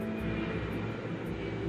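An airplane passes low and close while coming in to land at Heathrow Airport, its engines producing a loud, steady roar with a sustained tonal whine that fills the whole moment without any speech.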